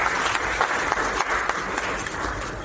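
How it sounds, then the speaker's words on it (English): An audience at an association's annual general meeting applauds, a dense patter of many hands clapping steadily for a couple of seconds, fairly close and filling the room. "Can you give them a round of applause?"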